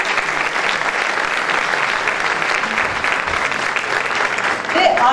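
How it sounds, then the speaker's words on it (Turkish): Sustained applause from a concert audience at a Turkish music ensemble's concert, steady and dense clapping filling the hall for about five seconds, with a slight swell near the end. "Alkışlarınızla."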